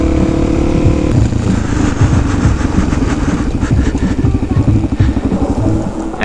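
A motorcycle engine rumbles loudly and steadily close by, with a Suzuki V-Strom waiting in a queue at a gate during a TT event, its drone continuous throughout.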